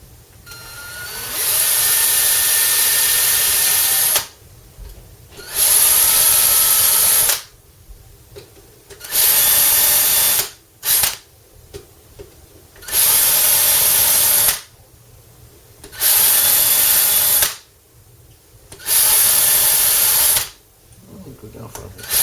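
A small power drill with a tiny bit drills screw holes in a BC Rich guitar neck for Grover tuners, whirring in repeated bursts of a few seconds each, loud and close, with short quiet gaps between runs.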